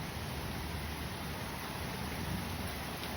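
Heavy rain pours steadily during a severe thunderstorm in Manchester, New Hampshire, a dense, continuous hiss of downpour with a low rumbling undertone and no pauses.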